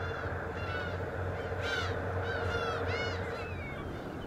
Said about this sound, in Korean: 출발하는 여객선 위로 갈매기들이 날아다닌다.